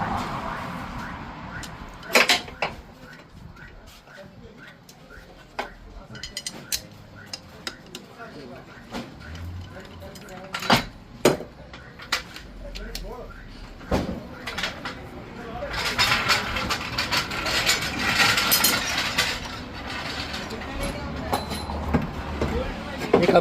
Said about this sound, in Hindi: अब ये हम इसका कंप्रेसर खोल दे रहे हैं।